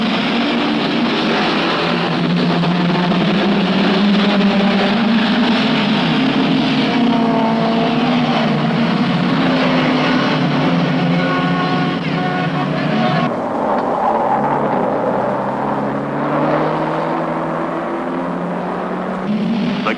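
A pack of about thirty race cars bunched together at the start of a circuit race, running up a mountain straight, makes a loud, dense, continuous engine roar with overlapping revving tones that shift as the field surges past.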